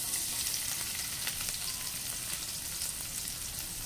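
Finely minced garlic frying in olive oil in a pan, giving a loud, steady, close sizzle that holds unbroken throughout with no talk.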